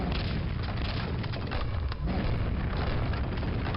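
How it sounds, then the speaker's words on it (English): A continuous, dense rumble of grenade explosions in the video game Arcane Dimensions rolls on without pause, loud and heavy throughout, with no voices. "grenades and explosions would be a little more effective against stone"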